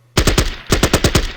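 Bren carriers open up with machine guns on infantry in the war strategy game Battle Academy: loud, close bursts of about eight rapid shots in two groups separated by a brief pause, with no talk.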